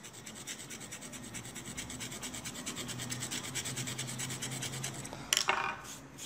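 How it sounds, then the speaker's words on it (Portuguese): Scraping at a dry gypsum plaster wall gives a steady close-up rasping, rubbing texture that runs continuously for several seconds and ends in a sharper burst of scratching. "Vou raspar até um pouquinho mais para cá para você ter a certeza."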